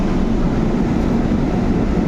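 A metro train passes along an elevated line, giving a steady, loud low rumble and rushing noise that stays constant throughout, with no voices.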